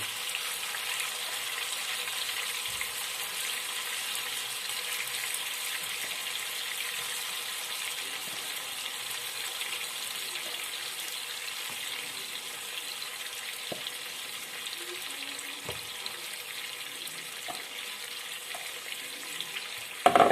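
Chicken wings fry in a pan, giving a soft, steady sizzle and crackle with scattered faint pops and a short louder clatter right at the end.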